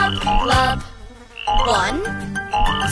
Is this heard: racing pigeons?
no